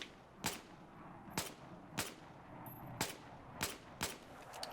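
L85A2 assault rifle fire at targets in Battlefield 4: six sharp single shots, evenly spaced about a second apart, crisp and fairly close against a quiet background.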